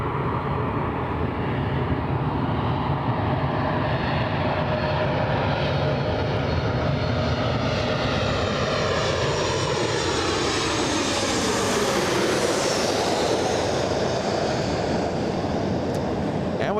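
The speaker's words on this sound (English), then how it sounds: "We have Delta Airlines, a 737 flying in from Seattle, Washington" A Delta Boeing 737-900 arriving at Los Angeles International from Seattle roars in loud and close, its engine whine climbing in a sweeping tone as the jet passes overhead.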